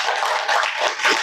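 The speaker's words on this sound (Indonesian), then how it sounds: "Tepuk tangan untuk Sevia Rani." A classroom of students claps for a classmate after her presentation, a brief burst of close, busy hand clapping with slightly uneven swells.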